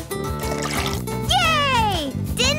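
A liquid-pour effect in a cooking video game, water being added to a mooncake recipe, runs as a steady trickle over bright, bouncy background music, with a rising and falling synthesized sweep near the end.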